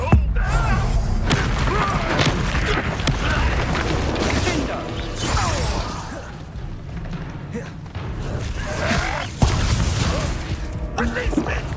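Confringo fire spell blasting in Hogwarts Legacy combat, a run of booming, crashing impacts and thuds amid dense battle noise, with shouted voices over the din.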